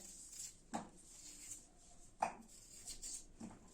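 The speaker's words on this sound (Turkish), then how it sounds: "Şimdi bu patateslerimizi şu şekil doğrayacağız." Soft knife strokes cut through potatoes on a board, a few spaced chops against a faint background hiss, quiet and close.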